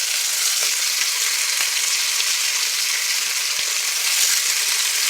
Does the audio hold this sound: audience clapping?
no